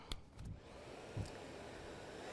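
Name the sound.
Kärcher BVL 5/1 battery backpack vacuum switched on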